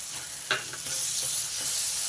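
Boiled bitter gourd frying in a pan with ginger garlic paste and curd, slightly catching on the bottom: a continuous close sizzle with a brief stirring clatter, no voices.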